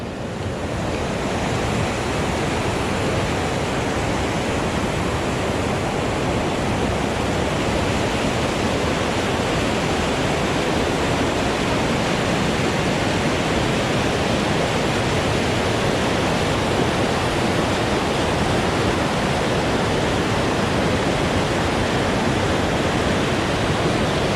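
Heavy, rushing flow of Winthrop Creek along the Wonderland Trail, a steady, loud, continuous roar of water with no pauses, heard close up and alone with no voices.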